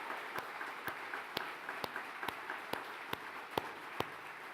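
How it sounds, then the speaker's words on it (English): Audience applause at the 2017 Marshall Foundation Awards ceremony: a soft wash of crowd noise punctuated by distinct, evenly spaced claps at a steady rhythm, moderately loud. "Let's indulge ourselves one more time with a round of applause for D.C."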